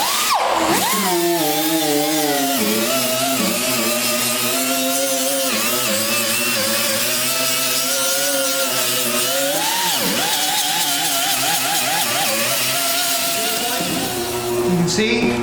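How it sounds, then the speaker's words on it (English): An air-powered 2-inch grinder runs continuously on a Super Jet build, a loud, steady high whine that dips and recovers in pitch as it bears down on the work, heard up close with no talking. "So for grinders, I just like to use an Air 2-inch grinder."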